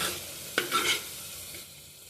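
Masala with curd sautéed in oil for masala rice, one clear scrape of the spoon and a short burst of frying hiss, then a faint quiet sizzle, close and fairly soft, no voices.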